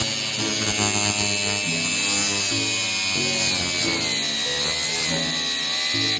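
An angle grinder cuts the metal hood pin brackets on a Jeep XJ, a loud close steady whine with a slowly shifting pitch that holds the whole time, heard alone.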